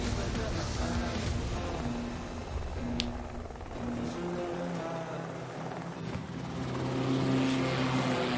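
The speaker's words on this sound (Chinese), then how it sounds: "飞机很快就要起飞了" A propeller aircraft engine in a battle-royale style video game drones loudly and steadily, a continuous humming roar that holds throughout with no clear voices over it.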